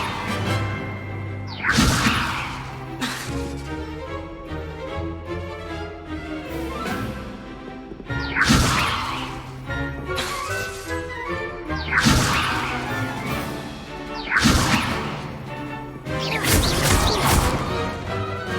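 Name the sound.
Levioso spell effect in Hogwarts Legacy video game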